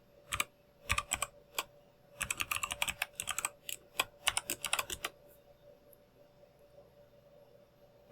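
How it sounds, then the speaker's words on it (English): A password is typed on a computer keyboard in a few quick bursts of close, crisp key clicks with short pauses between them, then the clicking stops and only a faint electronic hum remains. "And now I must type in my password."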